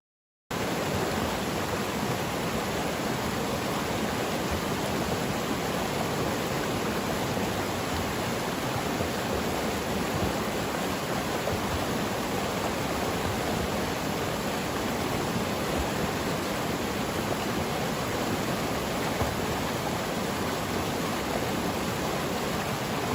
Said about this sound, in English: just enjoy the sights and sounds of the flowing creek itself